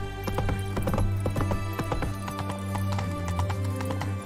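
Rapid hoofbeats of a galloping horse in The Witcher 3 video game, a steady clip-clop rhythm close and loud over a low musical drone, with the horse briefly whinnying; no one speaks.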